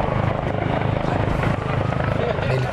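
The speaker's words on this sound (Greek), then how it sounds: "Με ελικόπτερο της Κυπριακής Αστυνομίας να υπερίπτατο καθ' όλη τη διάρκεια της ημέρας" A Cyprus Police helicopter flies overhead in Nicosia, its loud, steady rotor thump and engine roar filling the air continuously without pause.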